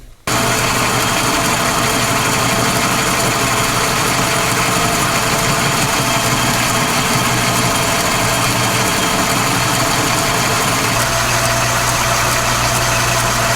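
A lathe turns down a steel shaft for the X231 steering system, the cut starting bumpy and interrupted before settling toward an even finish; a loud, steady, close machining roar with a constant hum runs throughout, no talk.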